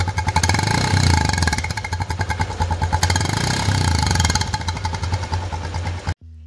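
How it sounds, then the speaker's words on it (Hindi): A Honda Livo motorcycle with a modified exhaust idles close by with a deep, bassy Bullet-like thump, loud rhythmic low pulsing that holds steady before cutting off abruptly near the end. "तो ये बन गई है बुलेट की आवाज़ एकदम मस्त बेस के साथ, आप सुन सकते हैं।"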